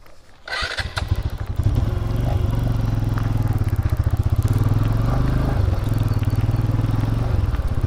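A nearby motorcycle engine starts and settles into a loud, steady thrum, its pitch rising and dipping as the throttle is gently worked.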